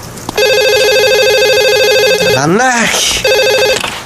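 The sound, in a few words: telephone ringing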